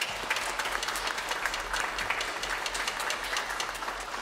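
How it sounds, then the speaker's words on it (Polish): Steady, dense clapping from a concert hall audience after an orchestral and choral performance at an album premiere in Szczecin, a continuous wash of applause at even strength throughout. "Brawa!"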